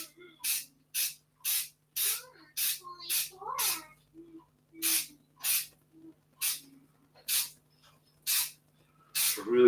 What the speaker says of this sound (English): Don't care about spraying my hands.